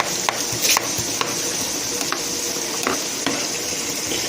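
Onions sizzling in oil in a pan for spaghetti sauce, a steady close frying hiss broken by several sharp scraping stirs of a utensil against the pan.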